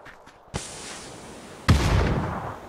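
Grenade blast in PUBG: a faint pop, then a sharp loud explosion followed by a rumbling tail, heard up close with no talk over it.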